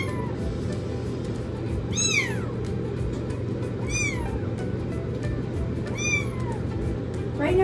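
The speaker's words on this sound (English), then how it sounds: "Right now he's meowing because he's very hungry." A small, hungry foster kitten meows three times at steady two-second intervals, high and plaintive, over a constant low hum of background noise.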